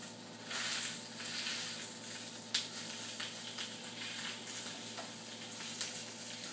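A kimchi fried rice bun browns in a lightly oiled pan with a steady, soft, close sizzle and occasional small pops and crackles throughout, with no voices.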